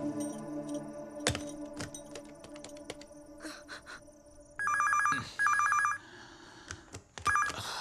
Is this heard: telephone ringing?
yes